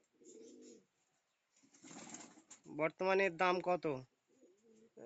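Low, soft coos come from a pair of Punjabi pigeons held in the hand, appearing at the start and end, while someone talks close by.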